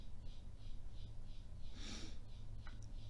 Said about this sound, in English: why are these birds so loud?